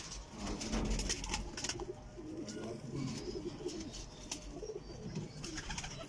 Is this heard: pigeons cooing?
yes